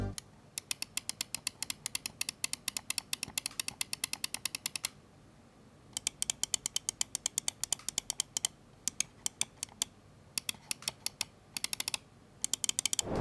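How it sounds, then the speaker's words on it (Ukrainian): Sharp, dry clicks from a Razer Viper V2 Pro gaming mouse, tapped in rapid bursts of many even clicks with short pauses between groups, close and clear with no talking. "Коротше кажучи, дуже гарний клік, питань нема."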